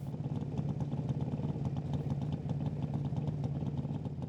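Engine of a Pro Stock drag racing motorcycle at an FIA/FIM drag racing event, a steady mid-pitched droning rumble that holds even throughout, heard from a distance and fairly faint.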